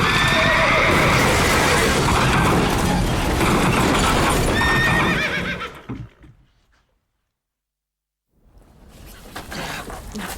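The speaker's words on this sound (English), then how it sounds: "He's lost control of the horses." Runaway coach horses neigh and whinny loudly amid clattering hoof clip-clops and a busy mix of sounds for about six seconds, then everything drops to silence before faint rustling and movement return near the end.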